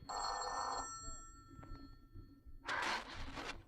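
An old-time radio drama telephone bell rings in two loud bursts, a long ring and then a second after a pause, with faint sounds in between.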